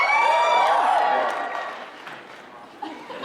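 Convention audience at Emerald City Comic Con cheering and whooping in a loud burst of voices that fades over a few seconds, with scattered shouts lingering.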